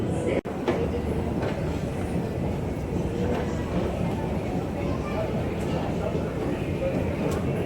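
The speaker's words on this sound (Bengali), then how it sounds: "আমি এখন চলে এসেছি মেট্রো স্টেশনের ভেতরে।" A Kolkata metro train rumbles inside the underground station, a continuous loud roar with faint rhythmic rail clatter and a brief thump near the start, without words over it.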